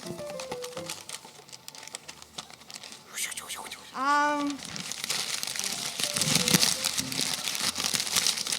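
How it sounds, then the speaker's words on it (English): Gift wrapped in lots of wrapping paper being torn open, with bursts of crinkling and ripping paper that grow denser toward the end, after a short tonal blip midway. "A lot of wrapping paper on your gift there, Rosa"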